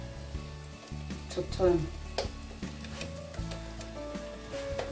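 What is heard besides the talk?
puff puff dough frying in hot oil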